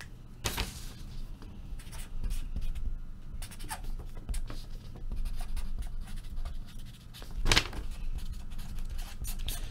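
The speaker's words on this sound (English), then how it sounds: "Write down the break number on here." A pen writing by hand on a card or paper, steady close scratching strokes with a few louder taps and rustles.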